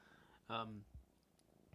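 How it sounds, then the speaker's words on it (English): A house cat purrs very faintly while resting on someone's lap, a low soft rumble with a brief voiced sound rising over it, in a quiet room. "Yeah, I can hear her purring."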